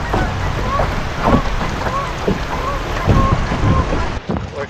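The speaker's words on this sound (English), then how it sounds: "I can see some splashing waves up ahead of us." Splashing waves in a small wave train on high floodwater while canoeing in strong wind, a close, continuous watery slosh and rush with irregular splashes, mixed with wind buffeting.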